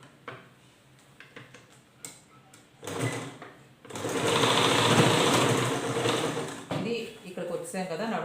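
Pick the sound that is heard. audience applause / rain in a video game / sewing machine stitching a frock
sewing machine stitching a frock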